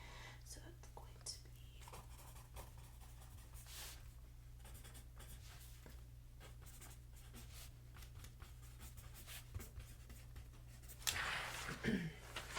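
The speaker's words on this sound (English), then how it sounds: "let me just write down product information for those" A pen writes down product information in quiet, close strokes and scratches under a low steady hum, with some whispering near the end.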